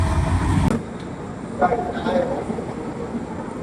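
A heavy train rumble is loud at first as the Sabarmati Express arrives at a junction platform, then drops to a lower mechanical drone with faint clanks and background voices.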